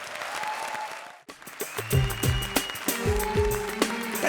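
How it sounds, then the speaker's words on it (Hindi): Studio audience applause on a comedy show greets a contestant, a burst of clapping that cuts off and gives way to rhythmic thumps and musical tones, fairly close. "जोरदार तालियां."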